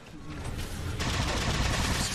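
Gunfire in the Halo 4 video game, a dense rattle of rapid shots that grows louder after the first second and continues without a break.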